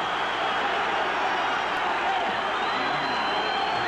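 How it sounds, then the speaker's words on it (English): A boxing arena crowd stands and roars in round ten of Ken Norton vs Scott LeDoux, a dense, continuous wall of cheering and shouting that holds steady and loud throughout. "And this crowd is on its feet. It is going berserk."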